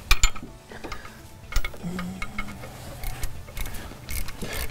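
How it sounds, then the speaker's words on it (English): Clicking ratchet and wrench work removes nuts from turbo mounting studs on a 2001 Cummins VP44 truck, with irregular metallic clicks and clunks close by and no speech. "So we'll remove both of the nuts on these two studs."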